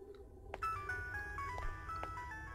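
Faint, thin electronic ringing tones chime in short melodic bursts inside a room in the video game Araya, quiet and without talk.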